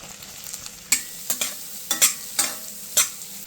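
Fennel seeds, chopped garlic, ginger and small-cut onion sautéing in a hot pan, a soft steady sizzle broken by several sharp stirring scrapes, close and with no voices.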